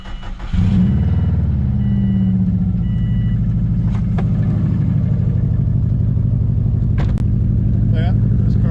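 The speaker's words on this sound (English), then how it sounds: "this car just has a pretty consistent misfire that we've never been able to get rid of. Lots of piston slap." A car engine idles with a consistent misfire and heavy piston slap, giving a loud, close, uneven running drone with irregular knocking pulses throughout.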